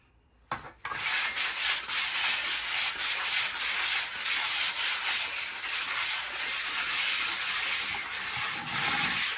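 A trowel or float smooths a fresh plaster finish along the base of a damp-repaired wall, giving a steady, close scraping rub with a soft hiss that runs continuously after a brief knock at the start.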